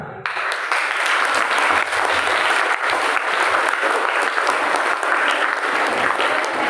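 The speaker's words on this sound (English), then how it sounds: "We'll give a 3 clap for ourselves in a chorus" A school audience clapping together, loud and dense, continuing without a break for several seconds after a short quiet start, with no separate voices.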